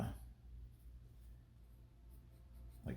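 Pencil drawing on paper while sketching simple heads: faint, steady scratchy strokes close up, with low background rumble and a brief louder scrape at the end.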